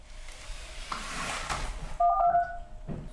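Telephone DTMF dialing tones as a call is placed, a short burst of clear keypad beeps standing out after a low background hum, then fading before the conversation begins.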